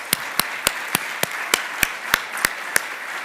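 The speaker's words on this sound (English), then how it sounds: "Let's give them a round of applause, please." At a regional conference lunch, applause for the sponsors comes across as a single person's sharp, evenly spaced claps, about ten crisp hits in a steady rhythm over a quiet room.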